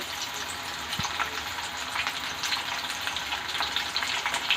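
Mushroom, cashew and peanut pakoda frying in hot oil, a steady close crackling sizzle with bright popping bubbles, no talk.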